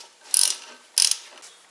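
A ratchet with a 14mm socket tightening front wheel bearing bolts on a 2008-2012 Chevy Malibu, two loud, close bursts of rapid clicking pawl strokes separated by a pause, then a fainter third click.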